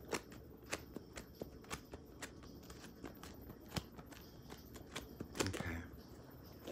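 Tarot cards being shuffled by hand, a quiet series of soft riffling snaps and taps at an uneven rhythm, close up and faint, ending in a slightly longer rustle.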